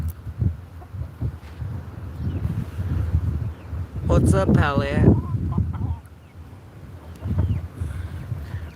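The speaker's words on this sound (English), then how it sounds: "Oh, just looking at the chickens." Chickens cluck and call outdoors in the desert, with a louder squawking burst in the middle, under and between a person talking casually nearby.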